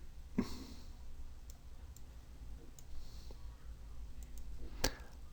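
Two crisp computer mouse clicks stand out, one near the start and one near the end, with a few fainter ticks between over a steady low hum.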